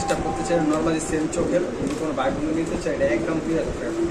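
A pair of grizzle pigeons coo softly at a pigeon sale, soft throaty calls repeating throughout beneath steady nearby conversation.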